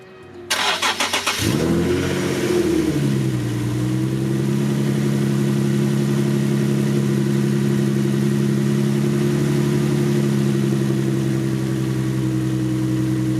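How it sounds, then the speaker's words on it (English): A Nissan 370Z fitted with Z1 intakes cold-starts with a sharp cranking burst, flares briefly, then settles into a steady, loud, even idle drone that holds for the rest of the time. "Let's get a cool start for this shit."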